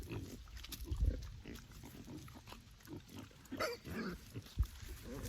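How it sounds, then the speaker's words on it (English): Pigs on a homestead chomping and rooting through tossed zucchini, with grunts, wet munching and snuffling up close, plus occasional thumps. "Toss it back there so maybe you can see them eat it."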